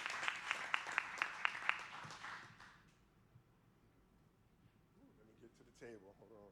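A small audience at a Democratic primary candidate forum gives a short burst of sparse, rhythmic clapping that dies away within two seconds, followed by quiet room noise and then someone talking.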